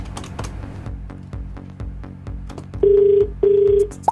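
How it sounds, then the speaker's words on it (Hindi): A few soft button clicks followed by two long electronic tones, a telephone ringing out after a number is dialed. "फोन मिलाओ,"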